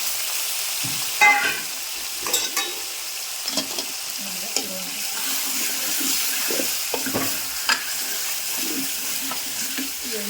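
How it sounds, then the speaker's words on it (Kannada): Half a kilo of washed mutton frying in a pan with ginger-garlic, giving a steady close sizzle with scattered scraping stir clicks throughout. "ವರೆಗೂ ನಾವು ಸ್ವಲ್ಪ ಮಟನ್ನ ಫ್ರೈ ಮಾಡ್ಕೊಬೇಕು"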